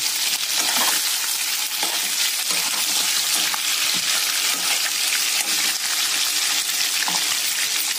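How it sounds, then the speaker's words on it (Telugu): Ingredients for egg soup fry in a pan until browned, a steady, fairly loud, dense sizzle and crackle running continuously with small pops and stirring clicks throughout. "అనేటివి బ్రౌన్ కలర్ వచ్చే వరకు వేయించుకోవాలి ఎర్రగా"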